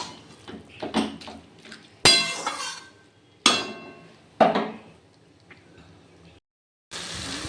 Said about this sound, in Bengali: জল দিয়ে নাড়াচাড়া করে এটা একটু রান্না হতে দেবো